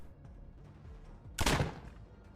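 A single loud gunshot burst from a post-Earth role-playing game, standing out sharply against a quiet low background, decaying quickly.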